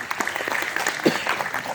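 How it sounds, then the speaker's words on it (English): Brief audience applause for guests at a talk on building a company in the age of AI, a short patter of clapping at moderate level, with a voice briefly audible underneath. "A round of applause for them, please."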